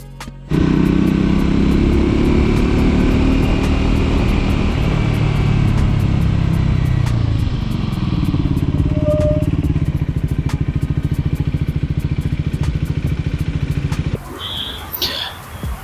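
A Triumph Scrambler 400X motorcycle in a brake test, its engine rumbling steadily and close for most of the run with faint clatter, easing off toward the end before a brief burst of handling noise.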